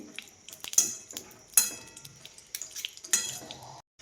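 Ghee goes into a metal kadhai on a gas stove, with sharp clinks of a spoon against the pan and a faint, light sizzle close by.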